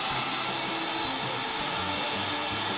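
A meat grinder works through chilled bratwurst meat, giving a loud, steady motor whine with a constant high tone and faint irregular low churning underneath, running without pause and with no talking.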